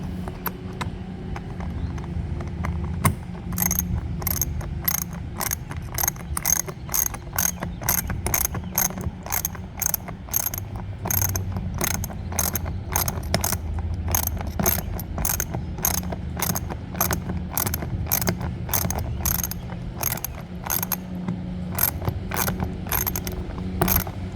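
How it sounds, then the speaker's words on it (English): A socket wrench ratchets steadily as it tightens a mud flap bolt on a Tesla Model Y, producing a long run of fast, evenly spaced clicks close by with no talking. "I'm gonna use my socket wrench to tighten the bolt"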